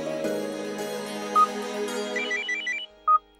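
A phone ringtone plays as a melodic electronic tune with brief bright chirps, loud and close, sounding alone for a few seconds.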